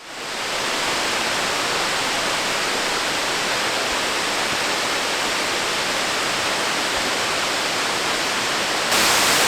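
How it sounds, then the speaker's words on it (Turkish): A constant, heavy roar of rushing water falling about 120 metres at Güzeldere Waterfall in rainy weather, loud and unbroken throughout, like a large waterfall heard up close. "Yaklaşık 120 metreden akan suyun coşkusu ve gürültüsü"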